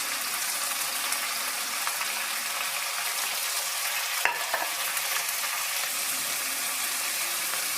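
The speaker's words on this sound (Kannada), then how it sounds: "ಫ್ರೈ ಆಗ್ತಿದೆ." Chopped onion and fruit fry in a pan with peppercorns and fennel, giving a steady, close crackling sizzle with a sharp clink of stirring midway.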